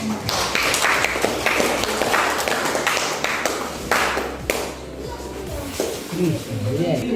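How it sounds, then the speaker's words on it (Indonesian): Students in a classroom clap for a student group, a few seconds of brisk, uneven clapping close by, fading out as talk picks up toward the end. "tepuk tangan untuk kelompok"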